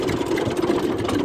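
A tractor engine running steadily just after being started in a village, a continuous low rumbling idle heard alone at moderate level.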